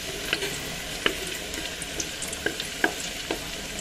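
Garlic and onion sauté in oil with a light, crackling sizzle and scattered sharp pops and taps of stirring, fairly quiet and close, with no voices.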